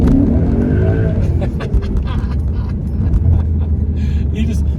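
A 2005 Maserati GranSport with a 4.2-liter Ferrari-derived engine drifting around a corner, its tires squealing under steady engine noise while someone talks over it.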